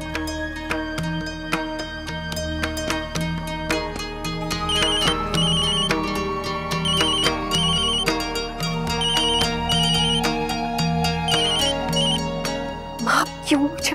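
A phone ringtone plays in an Indian TV drama scene, a repeating electronic melody that chimes steadily over a backdrop of music, with a brief louder burst near the end.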